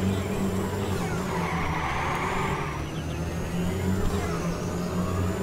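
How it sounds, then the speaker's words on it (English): A race car engine in the video game LittleBigPlanet 3 holds a steady drone for several seconds with a high whine over it, close and continuous, with no voices. "we'll rev this thing into the wall!"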